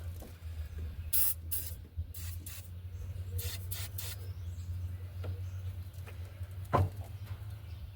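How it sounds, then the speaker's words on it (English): Short hissing spray bursts of lubricant go into an engine cylinder during head reassembly on a GMC Jimmy, several quick squirts early on and another later, over a low steady hum in a quiet workshop. "put a little lubricant down in the cylinder itself"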